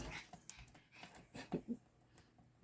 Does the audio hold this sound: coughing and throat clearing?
no